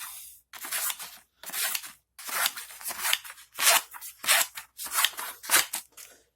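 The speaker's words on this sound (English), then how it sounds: "so I've got this scissor here. Now, paper, it can usually cut." Dull scissors chop through paper in seven separate cuts, each a crisp, rasping snip followed by a short pause, recorded close up with no talking.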